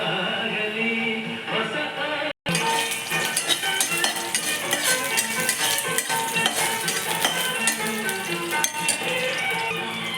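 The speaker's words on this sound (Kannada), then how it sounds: "ಒಣಮೆಣಸಿನ್ಕಾಯಿ, ಈರುಳ್ಳಿ, ಟೊಮೊಟೊ ಎಲ್ಲ ನಾನು ಹುರಿತಾ ಇದ್ದೀನಿ" Dry red chillies, onion and tomato frying and being stirred in a pan, a steady close sizzle broken by repeated clinks and scrapes of a spoon against the vessel, with one brief drop to near silence early on.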